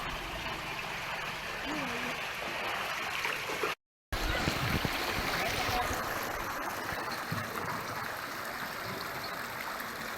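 Water gushing and splashing from a burst drinking-water pipeline in a village, a steady loud rush filling the whole stretch, with a brief dropout partway and faint voices mixed into the flow.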